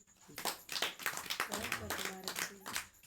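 A small group claps hands in quick, uneven bursts of sharp claps during a religious gathering, close and fairly quiet, with a voice speaking over it.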